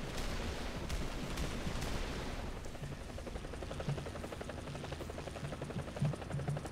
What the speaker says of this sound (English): I love this helicopter. It just looks so cool.